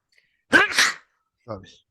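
A single sharp sneeze, then a brief softer vocal sound trailing after it.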